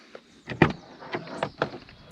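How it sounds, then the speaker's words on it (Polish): Rear door of a Saab 9-3 being opened and shut, a few close mechanical clunks and latch clicks spread over two seconds, with no talking. "jak zacząłem te drzwi otwierać, jak one się fajnie zamykają"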